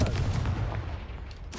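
A Confringo blasting spell explodes in the Hogwarts Legacy video game, a loud, close, booming blast that rumbles and decays over about a second and a half before a brief sharp crack at the end.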